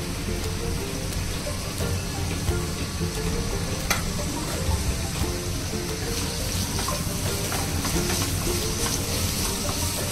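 Chopped onion sizzles and crackles steadily in a hot pan, frying with garlic, curry leaves and coconut for a Mangalore-style chicken gassi masala; a dense, continuous close-up hiss with occasional small pops and no talking.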